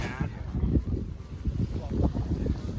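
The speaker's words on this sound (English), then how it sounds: "Very windy." Strong wind buffets the microphone outdoors during paraglider packing, a steady low roaring rush that swells and eases in gusts throughout.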